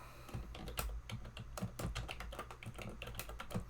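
Quick, uneven clicks of typing on a computer keyboard, each keystroke distinct and close, forming a steady run of taps at moderate volume without any talking.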